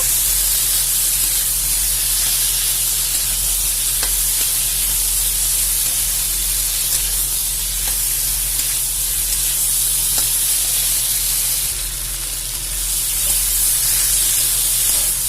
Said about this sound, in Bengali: এবার আমি এর মধ্যে আলু আর ফুলকপিটা দিয়ে ভালো করে কষে নেব।